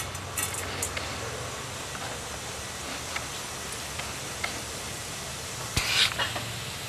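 Cumin seeds crackle and sizzle in hot oil in a pan for a jackfruit gravy, a steady low frying hiss with a brief louder burst of spitting near the end, with no talking.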